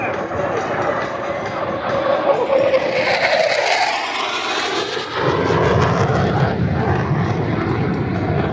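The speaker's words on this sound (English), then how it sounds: "This particular A4 that you see today was manufactured in 1967 in El Segundo, California" A Douglas A-4 Skyhawk jet built in 1967 makes a fast pass at an airshow. Its roar builds to a loud rushing peak and then fades into a steady rumble, while a crowd chatters throughout.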